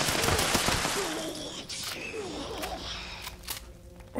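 Rapid gunfire bursts in the video game Fallout 76, dense and loud at first and then thinning into scattered shots and impacts.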